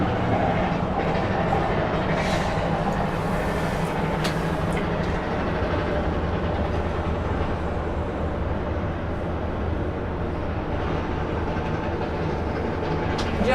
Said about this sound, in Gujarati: જો નીચે ટ્રેન જાય